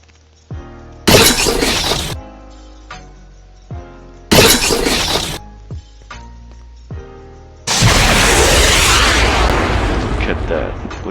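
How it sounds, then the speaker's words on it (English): Giant explosion demolishing a tower in a Minecraft Attack on Titan mod: two short loud shattering bursts, then a long sustained roaring crumble of collapsing blocks, close and loud, with no talk. "Oh yeah, it's a giant explosion,"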